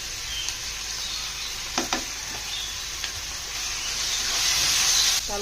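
Turmeric and chili powder frying in a pan for a liver curry, giving a soft, steady close sizzle and hiss with a few light stirring clinks, growing slightly louder toward the end.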